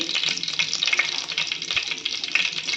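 Cumin seeds and garlic cloves frying in hot oil, a steady close crackling sizzle with brief stirring scrapes and no talking.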